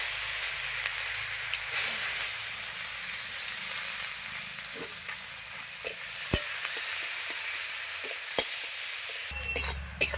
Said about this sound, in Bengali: ওই তেলে আমি পেঁয়াজ কুচানো দিয়ে দিলাম